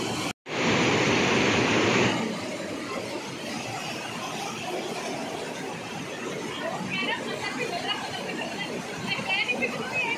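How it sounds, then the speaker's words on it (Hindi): Heavy flow of water at Sahastradhara, swollen after rain, a steady loud rushing roar that surges briefly near the start and then continues evenly, with people chattering faintly in the background. "इस वक्त जो है पानी का बहाव, पानी की मात्रा दोनों ज़्यादा है बरसात की वजह से।"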